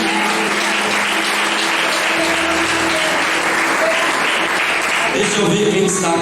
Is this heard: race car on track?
no